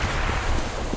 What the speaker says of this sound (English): Throwing a grenade. Grenade!